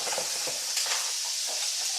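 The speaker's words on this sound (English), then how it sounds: "So we're going to saute our broccoli" Broccoli sautés in garlic butter in a hot pan, giving a steady close sizzle and hiss with faint stirring movement.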